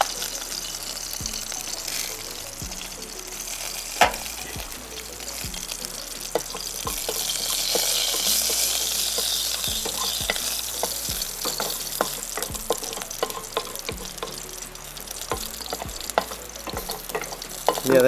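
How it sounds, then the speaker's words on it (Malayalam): Mustard seeds, about two small spoons, splutter in hot oil with a steady sizzle and scattered sharp pops and crackles throughout, close and fairly loud, with faint speech in places. "എണ്ണ ചൂടാവുന്നുണ്ടേ. കടുകിടാം, 2 സ്പൂണ്, ചെറിയ സ്പൂണിന് കടുക് ഇട്ടു."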